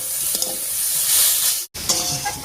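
Bottle gourd leaves frying and being stirred in a hot pan, a steady loud sizzle with a brief break before the hiss resumes.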